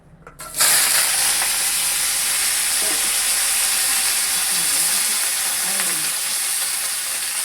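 Loud, steady sizzling erupts as vegetables (pointed gourd, stems, ridge gourd, potato) hit hot oil with white cumin in a wok, then continues as a dense, even frying hiss with faint stirring.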